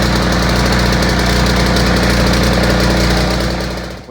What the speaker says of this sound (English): I'm about to put the jump box on it and see if the electric start works.